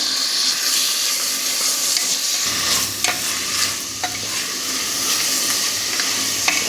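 Ginger garlic paste sizzling in a pan after green chillies, for ghee rice, with continuous stirring and scraping and occasional utensil knocks over a loud, steady fry; no voices.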